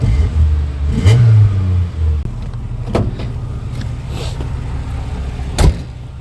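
A 1991 Ford Festiva's small engine idles and revs, rising in pitch once near the start, with a few sharp clicks and knocks over the steady running motor.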